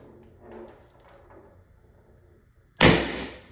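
A CO2-powered gun fitted with a drilled 2mm restrictor fires a sharp, loud double blast after a stretch of quiet low rumbling, the burst decaying quickly.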